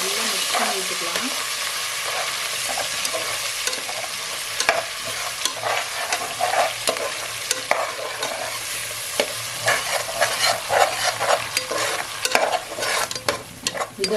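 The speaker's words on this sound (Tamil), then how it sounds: "இந்த எண்ணெயில நல்லா மிக்ஸ் பண்ணி விட்டுக்கலாம்" Spice paste is stirred and fried in hot oil with a steady sizzle, while a utensil scrapes and taps against the pan in quickening bursts. The cooking sounds are close and there is no talking.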